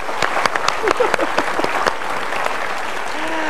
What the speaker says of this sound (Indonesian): Boleh kasih tepuk tangan dulu dong.